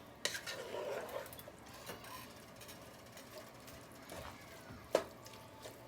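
A spoon scrapes and knocks against a pot while a St. Lucian national dish is mixed, giving soft, sparse clinks and a couple of sharper metallic taps in a quiet kitchen.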